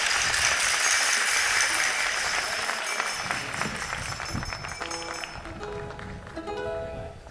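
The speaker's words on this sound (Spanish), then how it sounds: "Ese aplauso para el grupo" Sustained applause from an audience for a Spanish folk dance group, dense clapping that gradually thins out while a voice talks briefly near the end.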